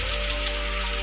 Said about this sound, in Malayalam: നല്ല രീതിക്ക് മഴയുണ്ട്, നല്ല മഴയാണ്.